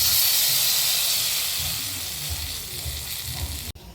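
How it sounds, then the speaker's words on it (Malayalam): Mustard seeds sizzle and crackle in hot oil for tempering a Kerala brinjal theeyal, a steady close hiss that fades slightly before ending in a brief clatter. "നമുക്കിതിലേക്ക് കടു താളിക്കാം."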